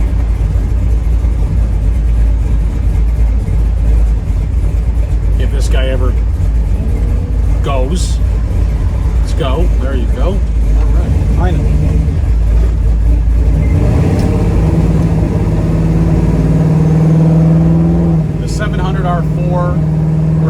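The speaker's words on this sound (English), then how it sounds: "So we're gonna hit the freeway here in a second. We get up to 70 miles an hour." A 1967 Camaro with a 4L60 automatic and mild shift kit accelerates onto a freeway, its engine droning steadily and rising as it picks up speed, while someone talks over it from inside the car.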